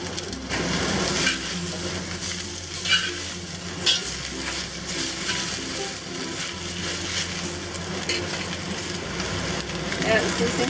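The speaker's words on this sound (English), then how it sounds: "Okay, now I'm going to add the leaves." Tagu choy leaves stir-fried with garlic in a hot pan, a steady close sizzle with scraping and tossing of the greens, a low hum in the background and brief soft voices at times.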